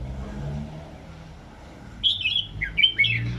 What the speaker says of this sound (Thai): อันนี้นกอายุหนึ่งปีนะครับ ยังแข่งไม่ได้นะครับ